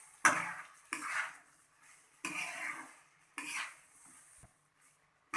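Pre-fried vegetables being added to a pan and mixed, heard as four distinct bursts of clattering, scraping utensil strokes against the pan, separated by short near-silent pauses.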